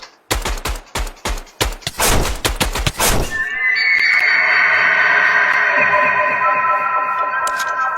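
Gun firing bullets in a Minecraft horror modpack, a loud series of sharp rapid shots over the first three seconds, followed by a sustained high ringing, whinny-like tone that lingers until the end.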